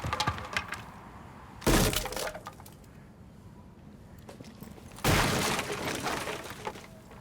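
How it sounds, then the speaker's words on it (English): Two loud barricade hits in Rainbow Six Siege, each a sharp, cracking, splintering smash that breaks through steady background noise, several seconds apart. "Listen to the difference of me hitting the barricade 2 times and me hitting the barricade 3 times."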